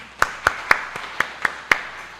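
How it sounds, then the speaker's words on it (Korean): Six sharp claps in unison from a church congregation at a Sunday service, evenly spaced in a steady rhythm, like a group clapping together in time. "박수 한번 쳐드리겠습니다."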